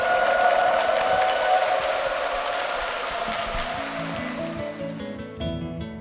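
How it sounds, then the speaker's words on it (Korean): A church congregation claps in blessing for two members, a steady wash of many hands that is loudest at the start and gradually thins, with faint music entering toward the end. "우리 두 분을 향해서 힘찬 축복의 박수 부탁드립니다"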